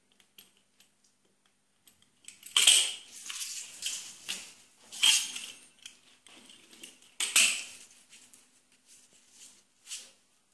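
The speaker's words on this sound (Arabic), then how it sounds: "غادي ناخذ دابا القطع اللي كنقطعوا بها البيتزا او اي سكين كما بغيتو، غادي نقطع بها هكا مستطيلات" A pizza cutter slicing rolled dough into rectangles for a quick no-oven sweet: several separate crisp scraping strokes, close and fairly quiet, spaced a couple of seconds apart with near silence between them.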